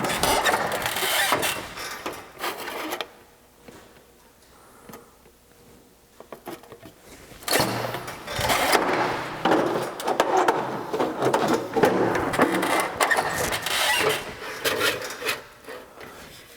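A sheet metal brake bends metal trim in small repeated steps, giving close scraping and clunking mechanical sounds in two busy stretches separated by a quieter pause.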